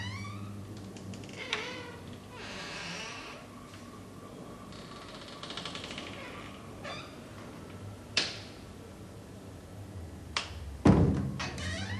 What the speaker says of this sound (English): An inner door, incessantly opening and closing in an annoying way.